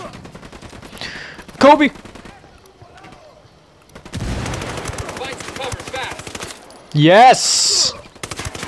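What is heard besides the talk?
assault rifle gunfire in video game Ghost Recon Wildlands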